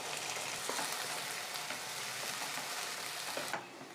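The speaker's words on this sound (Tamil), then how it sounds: "அடுத்தது நம்ம அரைச்ச இந்த மல்லி, தேங்காய், இஞ்சி பூண்டு பேஸ்ட்டு இது நம்ம வதக்கிக்கணும்" A paste of ground coriander, coconut, ginger and garlic sautés with onions in a kadai, giving a steady, close frying sizzle with faint stirring scrapes throughout.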